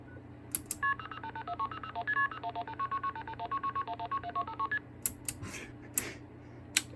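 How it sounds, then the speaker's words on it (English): MF tones sending a PSAP number over a Feature Group D telephone trunk: a rapid string of short, clean beeping tone pairs in quick succession, with a few clicks before and after. "what it sounds like to send the PSAP number out of feature group D trunk using MF"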